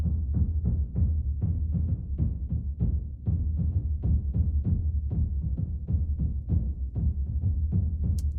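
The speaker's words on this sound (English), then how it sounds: "drums that come in here sound like this" A muffled, low drum pattern thumps in a steady repeating rhythm, dull and bass-heavy, played alone without any voices.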